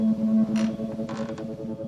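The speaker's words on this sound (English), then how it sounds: "Eventually, the doors slow down and they stop." Doors creak loudly in long, wavering groans that grow uneven and slower, with a few scraping bursts before they fade toward a stop, close and without voices.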